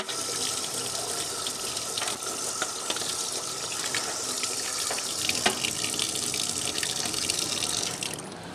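Tap water runs steadily while fishing pliers are washed clean, a continuous close gush of faucet flow with no talk over it.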